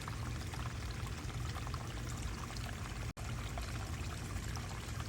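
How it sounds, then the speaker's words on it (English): Water trickles slowly into a DIY garden pond, a close, continuous splashing flow that stays even throughout, with no voices. "And then we have the slow little trickle effect right there"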